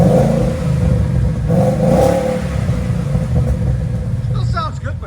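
Deep rumbling revs from a 2014 Ford Mustang GT with a 5.0L V8 and cut-out mufflers, a loud close engine roar rising and falling with clatter and a voice briefly heard over it.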